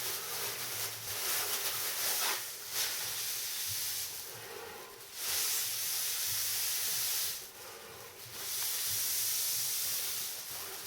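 Breath blown in a few long, airy gusts into a bag while bottling and corking strawberry wine, each steady hissing rush separated by short pauses, close and fairly loud.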